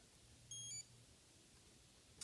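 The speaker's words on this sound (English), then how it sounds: "That beeping noise that you just heard is what's called a tone guide." A Suunto Core watch gives its stopwatch tone guide, a single short, faint high electronic beep in an otherwise quiet room, followed by a small click.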